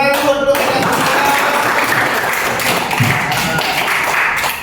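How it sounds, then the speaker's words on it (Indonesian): A class of fifth-grade pupils claps a rhythmic pattern together in a classroom, a dense run of hand claps and taps carrying on steadily through the clip with no talk over it. "Coba tepuk 4. Oke, tepuk 4."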